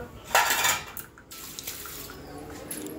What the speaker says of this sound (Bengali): তো এখন এই চায়ের বাসন কটা মেজে নেবো